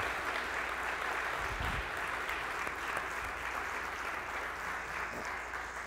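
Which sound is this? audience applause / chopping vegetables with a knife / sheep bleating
audience applause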